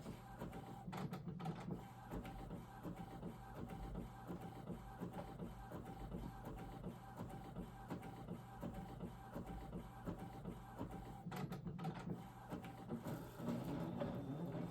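An Epson ET8550 inkjet printer whirs and clicks rhythmically as it feeds a card through, with repeated mechanical ticks and a couple of louder clunks.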